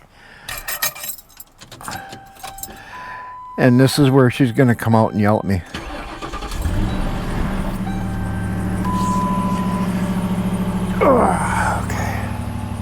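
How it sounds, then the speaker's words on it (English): A car engine cranks and catches partway through, then settles into a steady close idle that runs to the end, with jangling keys and someone talking over it early on. "Pop the hood on the car and fire it up."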